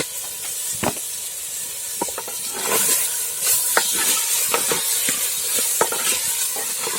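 Potatoes go into a pan of frying dry fish for a dry fish curry, giving a steady hiss and sizzle with scattered stirring clicks and scrapes throughout.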